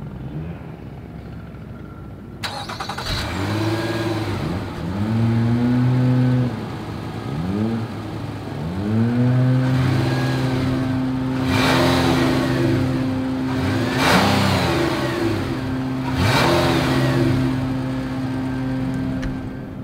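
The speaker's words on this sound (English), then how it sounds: "As always, here is that exhaust clip." A 2021 Nissan Murano mid-size SUV idles through its dual exhaust, then revs several times. Each rising and falling engine sweep is loud and close, and the exhaust settles into a steady held rev.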